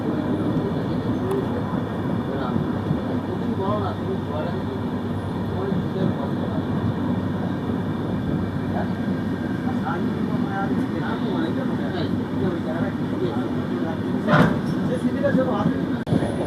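The 22818 Superfast express rolls into Sankrail station past the goods sidings: a steady, loud rumble and clatter of wheels and carriages with a brief sharper knock near the end, while a voice talks over it.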